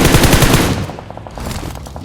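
A quick burst of rapid automatic gunfire up close, followed by fainter, more distant bursts of shots, game-like and sharp.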